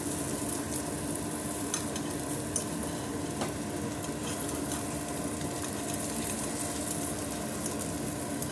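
An omelette frying in a pan gives a steady, close sizzle that stays even throughout, with faint scraping clicks now and then and no talking.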